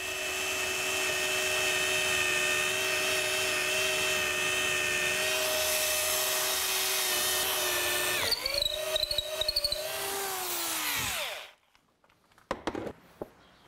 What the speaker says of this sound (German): Schließlich kommen Löcher rein. In diese Löcher sollen später die Halterungen für die Ruder.